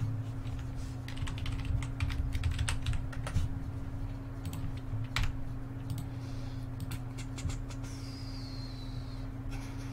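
Steady typing on a computer keyboard, with quick clusters of light key clicks over a low constant hum, fairly quiet and with no talking.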